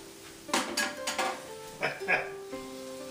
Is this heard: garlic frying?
yes